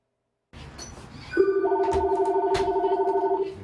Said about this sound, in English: The phones at Alan Jones Used Cars have not stopped ringing.